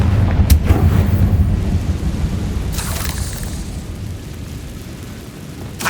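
In Hogwarts Legacy, a Confringo fire spell goes off in a sharp booming explosion, followed by a rumbling tail that fades, and a second crackling burst follows mid-way.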